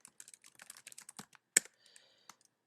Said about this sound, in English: I'm just going to type in my email address.